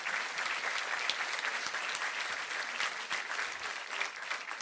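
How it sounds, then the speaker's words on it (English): Steady, fairly distant applause from a graduation ceremony crowd at a preparatory academy, dense clapping sustained evenly throughout without a break. "Let's give everybody a round of applause for their hard work."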